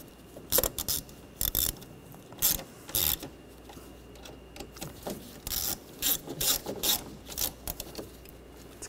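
A ratchet wrench tightens screws on a transmission mount of a 2013-2019 Ford Escape 2.0L, giving repeated short bursts of rapid clicking close by, separated by brief pauses, with no talk.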